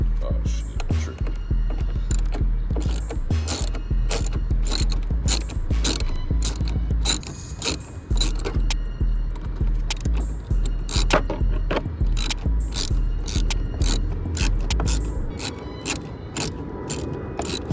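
Rapid, loud ratchet clicks from a ratchet loosening a headlight bolt on a Dodge Charger, sounding in dense bursts with metallic rattles and brief pauses, close up.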